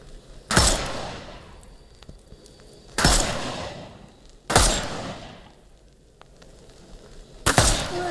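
Four sharp, loud gunshots spaced a couple of seconds apart in the Sherlock Holmes: Chapter One video game, each a hard crack with a short decaying tail over a quiet background.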